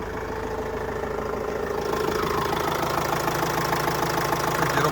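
A 2008 Opel Vivaro passenger van's 2.5-litre, 150 hp engine idles steadily and fairly close, a smooth continuous rumble with a light rhythmic ticking and no voices.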